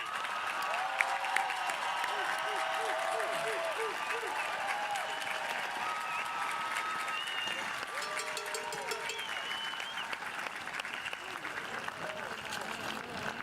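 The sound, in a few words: applause for graduating class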